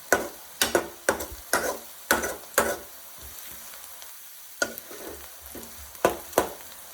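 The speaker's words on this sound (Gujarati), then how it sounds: "જોઈ શકો છો ડુંગળી થોડી થોડી શેકાવા લાગી છે" Onions frying in a pan for a methi curry, with crackling sizzle bursts at a steady rhythm and sharper stirring clatters coming up close, then easing off into a quieter sizzle. No one speaks.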